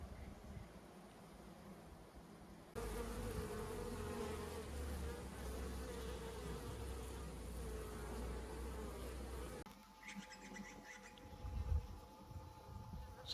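Honey bees hum and drone around an opened hive, a continuous close buzzing swarm with shifting intensity and a few louder passes near the end.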